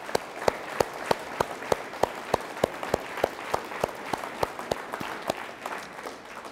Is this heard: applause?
yes